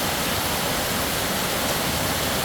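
Heavy downpour in Tha Muang, Kanchanaburi, with runoff water streaming past, giving a continuous loud hiss and rush, unbroken throughout.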